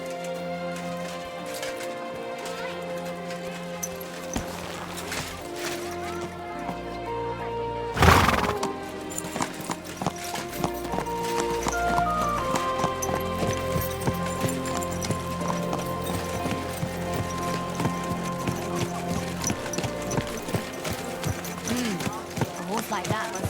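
In Kingdom Come: Deliverance II, a horse neighs loudly while hooves clip-clop steadily in an even rhythm, with voices talking over the game sounds.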